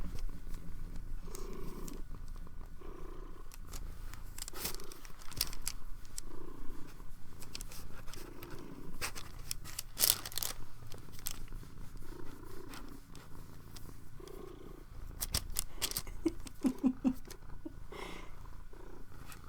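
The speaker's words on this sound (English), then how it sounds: "She's purring so much." A cat purrs steadily and up close in a low, rhythmic rumble, interrupted now and then by brief rustling and handling noises.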